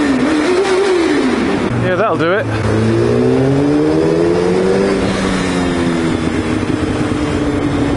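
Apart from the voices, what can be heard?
Yamaha FZ1-N motorcycle with Storm Oval exhaust revving in tunnel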